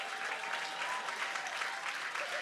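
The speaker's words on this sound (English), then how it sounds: "And now, a big round of applause" An audience at the Transform Africa Summit 2023 closing ceremony applauds in a steady, dense round of clapping, with no break and no voices on top.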